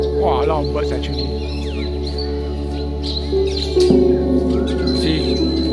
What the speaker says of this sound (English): Wow, a lot of birds actually.